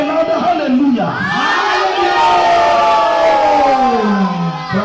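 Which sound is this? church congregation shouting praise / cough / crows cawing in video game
church congregation shouting praise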